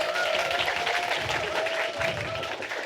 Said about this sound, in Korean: 우리 박수 한번 쳐주실까요?